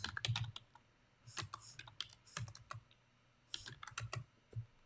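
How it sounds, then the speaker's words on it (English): Fingers type on a computer keyboard in short bursts of crisp clicks and key taps, close and fairly quiet, with brief pauses between the runs of keystrokes. "let's just type in business"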